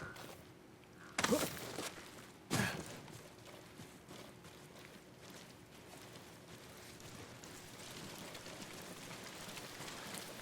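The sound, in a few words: rain in the video game Ghost of Tsushima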